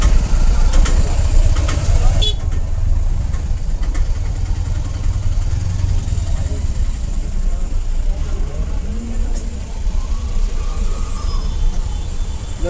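Vehicles idle in a jammed queue at a toll booth by the Pathri cattle market, a steady low engine rumble filling the scene while voices talk nearby.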